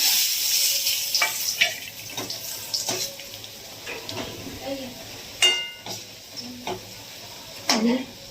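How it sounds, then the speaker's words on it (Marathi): Green chillies hit a hot garlic tempering in a pan and crackle sharply over a continuous sizzle, with scattered pops and spatters close by. "आता टाकू त्या मिरची मिरच्या"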